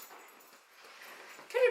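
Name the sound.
Catahoula dog whimpering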